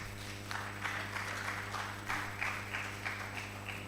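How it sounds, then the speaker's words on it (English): Faint, distant clapping from an audience at a press institute gathering in Nigeria, rising in soft bursts over a steady electrical hum. "let's keep the applause going for Alhaji Lai Mohammed."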